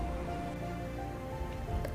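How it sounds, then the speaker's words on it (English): Steady rain falls outdoors as a continuous broadband patter, even and moderately loud for the full two seconds, with no voices. "It's raining."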